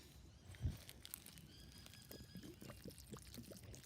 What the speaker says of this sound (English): got to water the plant